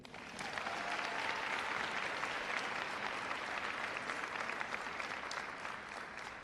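Sustained applause from a sizable audience at a high school scholarship and awards night, steady dense clapping throughout with no voices standing out.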